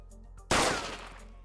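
A single loud gunshot sound effect plays on a virtual streamer's stream, an abrupt close blast that decays over about a second, with no talking.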